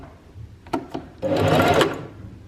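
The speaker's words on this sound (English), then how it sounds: "I'm going to put the foot down, and then I'm going to do a couple stitches again, back stitch" A home sewing machine sews a short back stitch: two quick needle taps, then a brief steady whirring burst of stitching, close and fairly loud.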